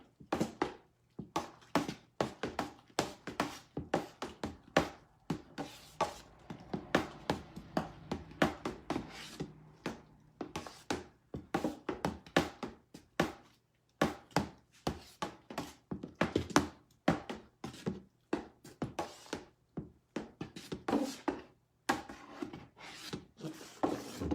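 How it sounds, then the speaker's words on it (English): A spoon stirs a honey soap mixture in a container, giving a long run of rhythmic scraping and knocking strokes, close and fairly quiet, with no speech. "Use my spoon here to stir it up to make sure it's all nice and stirred up."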